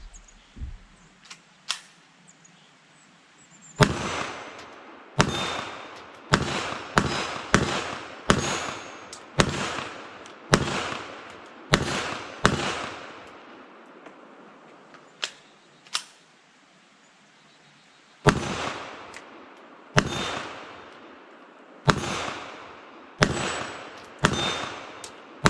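Loud, sharp gunshots from a Walther WMP .22 Mag pistol fired outdoors at steel targets from about 15 yards or more, coming in quick strings of evenly spaced cracks with short pauses between volleys.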